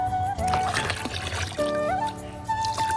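Water is poured and trickles out into a small, dirty pond during a fishing game, with uneven splashing bursts and a faint voice in the background.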